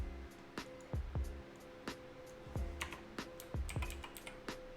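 Computer keyboard keys pressed in short clusters for shortcut commands, a few sharp clicks and double taps spaced through the stretch, close and fairly quiet, no talking.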